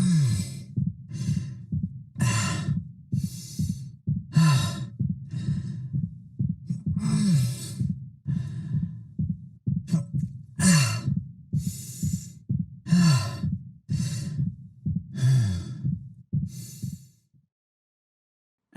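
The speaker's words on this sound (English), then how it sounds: "So hearing those injured winces, those fatigued breaths mixed in with his regular breathing actually sounds quite natural." Pained winces and weary, fatigued breaths from the injured character in the Dead Space video game, a steady rhythm of close, breathy exhales and groans repeating every second or two before falling silent at the end.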